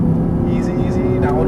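An Audi R8 V10 on a speedway circuit pulls hard under throttle, its engine a loud, steady drone with rising tones close by, while an instructor talks over it.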